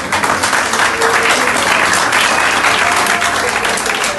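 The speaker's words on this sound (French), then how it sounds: "Je vous demande la possibilité d'applaudir pour la voix de Dieu." A church congregation at a wedding breaks into loud, dense applause, the clapping sustained and even throughout, close and full with no speech over it.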